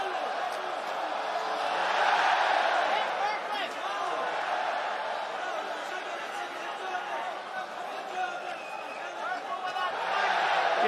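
An arena crowd at the Coca-Cola Arena roars steadily through an MMA fight involving Usman Nurmagomedov, a dense, distant wash of cheering that swells at moments, with a commentator talking over it.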